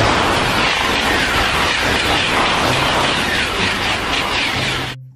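A toy high-speed train sound: a loud, rushing train-like roar with fast clattering texture runs continuously, then cuts off abruptly at the end.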